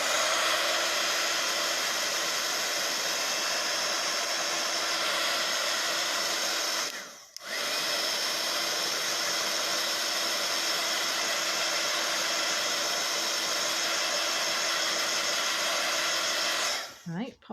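A hot air craft dryer used on a handmade craft project blows with a steady loud whirring hiss, briefly cut off once midway and again at the end.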